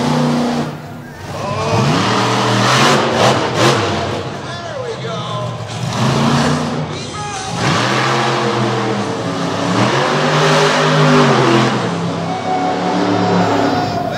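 A monster truck engine revs hard and roars through a donut during a freestyle run at an indoor arena show in Madison, with repeated rising and falling bursts under loud announcer commentary.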